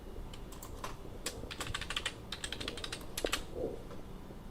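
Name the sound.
typing a username and password on a computer keyboard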